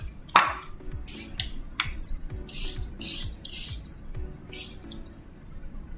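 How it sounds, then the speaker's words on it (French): Charlotte Tilbury Airbrush Flawless setting spray mists onto a face in a quick series of close, hissy pumps, about ten short sprays in an irregular rhythm with faint handling sounds between them. "je vais venir fixer mon maquillage avec le Airbrush Flawless Setting Spray de chez Charlotte Tilbury"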